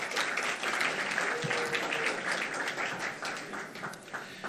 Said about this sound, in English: Rabbi Zeitlin, who organizes so much of the Yarchei Kallah, deserves a nice round of applause.